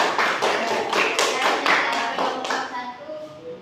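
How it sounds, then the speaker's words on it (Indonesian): Students clap their hands in a classroom, a brief burst of quick, close, slightly uneven claps that fades out after a few seconds while faint voices linger underneath. "Ya, tepuk tangan."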